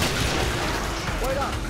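A grenade explosion in Killing Floor, a dense, loud rumbling boom that fills the whole moment with a steady roar, with faint game noise and a brief tonal squeal near the end.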